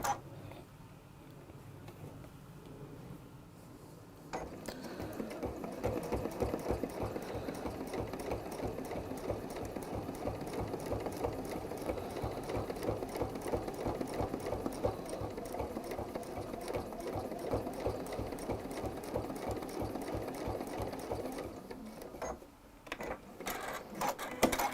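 A domestic sewing machine running steadily with a free motion foot, a fast even stitching rattle that starts after a few seconds of quiet, holds close and loud for most of the clip, then stops near the end.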